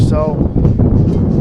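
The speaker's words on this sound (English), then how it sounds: "it's very windy out there" Gusty wind buffets the microphone with a low, steady rumble at an outdoor professional soccer match while a voice speaks briefly over it.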